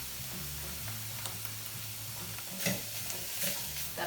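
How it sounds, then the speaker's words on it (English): Food frying in a pan is stirred over high heat, with a steady low sizzle and a few scraping stirs near the end, no talking. "We'll give it a stir."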